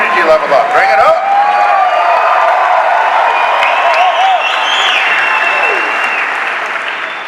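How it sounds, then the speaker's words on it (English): Sustained applause and cheering from an audience at a Las Vegas motivational speaking event, loud and dense throughout, with whoops and shouted voices rising over the clapping before it eases slightly toward the end. "Let's give them another round of applause."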